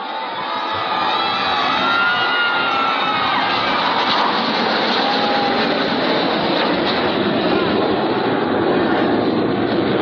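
A formation of five aircraft roaring overhead at the Chennai Marina air show, a loud continuous jet engine rumble and whine that holds steady throughout.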